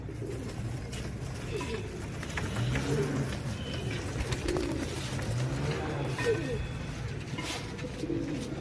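Royal Teddy pigeons coo steadily in a low, soft murmur, several birds overlapping close by against a faint background hiss, with no speech over them.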